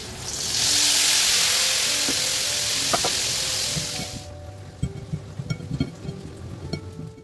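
Loud, steady sizzling of tempe frying in a pan for several seconds, then the hiss cuts off, leaving quieter clinks and soft rustling.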